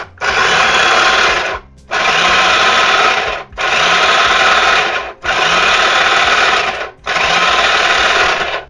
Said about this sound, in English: So I'm going to grind these onions really fine in my little food processor here.